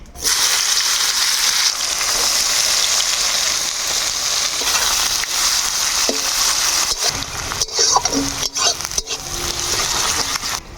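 Chopped onion sizzles loudly in hot mustard oil with bay leaves, dried red chillies and whole cumin, a dense steady frying hiss close by with occasional stirring scrapes and clinks.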